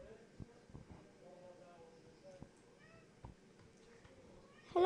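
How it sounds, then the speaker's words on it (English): A pet cat meows several times indoors, short faint calls scattered among quiet room noise, with a louder meow at the end and a person talking softly nearby. "That's my cat."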